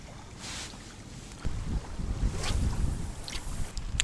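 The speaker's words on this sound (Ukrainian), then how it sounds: "Вітер починається такий." Wind gusts buffet the microphone in low rumbling bursts, strengthening partway through, with faint water sounds at a winter feeder-fishing spot before ice forms; no one speaks.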